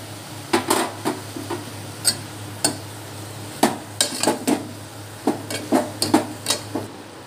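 A spoon scrapes and clanks against a cooking pan while stirring tomato pieces into a curry, irregular metallic knocks and scrapes spaced over a low steady hum.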